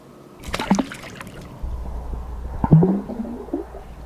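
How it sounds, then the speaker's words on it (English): Iopool Eco Smart pool sensor dropped into backyard pool water, giving a near, clear splash and sloshing, then a short, quieter second splash and trickle. "Now it's time to yeet it into the pool."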